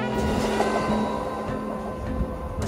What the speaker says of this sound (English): train is coming in right now.